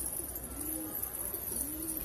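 Pigeons coo softly nearby, two low rolling calls over a steady background hiss.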